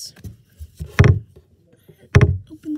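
Door opening, two heavy thumping clunks about a second apart with small rattles and scrapes between them, close and fairly loud.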